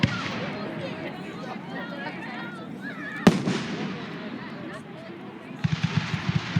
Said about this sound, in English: Ooh, we got rapid fire.